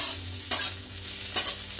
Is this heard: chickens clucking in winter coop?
no